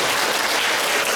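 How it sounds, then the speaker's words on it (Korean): At a book concert, an audience claps to welcome two pianists to the stage, a loud, steady, dense wash of many hands throughout. "여러분 큰 박수로 환영해 주시고요."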